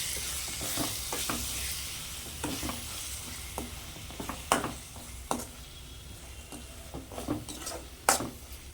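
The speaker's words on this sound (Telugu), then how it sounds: "ఒక స్పూన్ గరం మసాలా వేసి కలపాలి" Garam masala is stirred into a frying tomato rice mixture, a soft sizzle under repeated spoon scrapes and taps against the pan, with a few sharper knocks.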